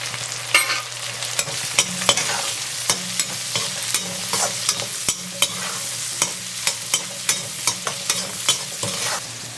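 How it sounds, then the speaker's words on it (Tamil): A handful of chopped small onions sizzles steadily in hot frying oil for an eggplant kuzhambu, with a regular clatter of a spoon stirring the pan every half second or so. "நான் இதுலேயே நறுக்கி வச்சுருக்கிற அதே சின்ன வெங்காயம் அது ஒரு கைப்பிடி சேர்க்குறேன்."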